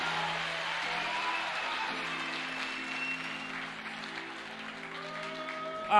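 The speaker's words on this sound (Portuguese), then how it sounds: "Dá uma salva de palmas e fique de pé no seu lugar" Church congregation applauding during a worship service, a soft, steady spread of clapping with sustained musical tones ringing underneath, fairly distant and even.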